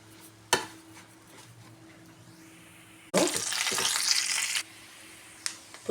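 Watermelon seeds and green and black raisins dropped into a hot pan for carrot halwa: a few soft clinks, then a sudden loud sizzling burst lasting over a second before settling, followed by a sharp utensil tap.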